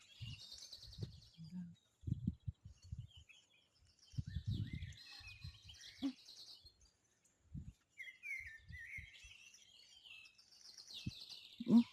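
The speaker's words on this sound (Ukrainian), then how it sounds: "пташки співають, як гарно" Scattered high chirps and tweets of small birds at a distance in a village forest, with low thumping handling or footstep noises and occasional quiet talk nearby.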